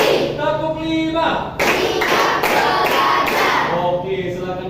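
Schoolchildren standing in class clap together on cue, a handful of sharp, loud group claps in a steady beat close to the mic, with the teacher's voice speaking around them.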